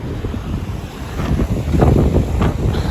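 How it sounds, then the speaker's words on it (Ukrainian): Strong, storm-force wind with no rain buffets the microphone in loud, rumbling gusts that swell toward the end, with no voices. "Дощу немає, але дуже сильний вітер піднявся, прям дуже-дуже буревій."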